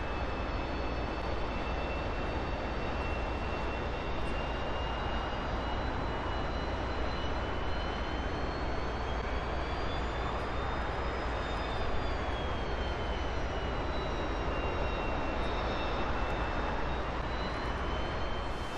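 Jet engines on a taxiing aircraft in DCS World give a constant loud roar with high turbine whines that slowly bend in pitch. The noise is unbroken and close, with no talking.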